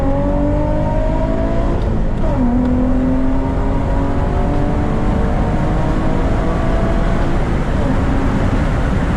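An Infiniti G35 fitted with a cold air intake pulls hard in second gear, its engine droning loudly and steadily with rising tones throughout, no voices over it.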